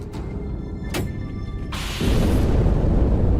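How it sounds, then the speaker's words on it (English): A deep, rumbling explosion from the Halo video game swells into a sustained roar after a couple of faint clicks, loud and broad with no talking. "That explosion came from inside."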